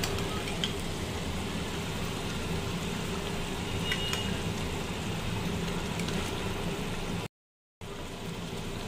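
Eggplant pieces frying in a pan of onion and tomato puree tadka, giving a steady, soft sizzle throughout with a brief cut near the end.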